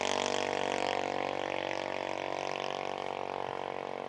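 A junior dragster engine at Saskatchewan International Raceway drag strip, held at high RPM through the eighth mile, a steady, dense mechanical roar that stays loud and unbroken throughout with no voices.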